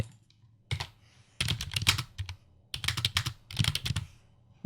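Close, crisp computer keyboard typing near a microphone in several quick bursts of clicking keystrokes separated by short pauses.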